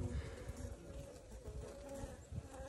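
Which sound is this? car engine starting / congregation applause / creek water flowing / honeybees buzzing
honeybees buzzing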